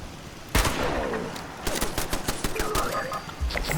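Gunfire in the video game Fallout 76: a sudden burst opens a steady run of rapid automatic shots, which continue as dense, loud cracks with short gaps through to the end.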